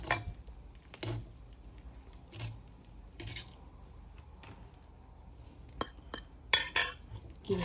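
Utensils clink and scrape against a pan or plate while stir-fried glass noodles with bamboo shoots are scooped out to serve, with sparse scrapes early and a quick cluster of sharp metallic clinks near the end.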